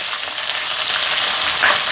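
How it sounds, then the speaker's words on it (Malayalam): Shallots, onions and curry leaves sautéing in hot oil in a pan for a beef fry, a steady loud sizzle throughout with faint stirring movement and no pauses. "ഇത് നന്നായിട്ടൊന്ന് വഴന്നോട്ടെ"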